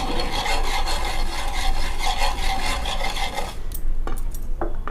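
Ghee being stirred in a pan with a spoon while making milk peda: steady, loud scraping and rubbing that stops partway through, followed by a few sharp clinks of utensil on pan.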